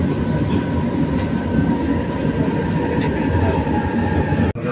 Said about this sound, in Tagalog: Approaching Shaw Boulevard Station, dalawang pintuan po ng tren ang magbubukas.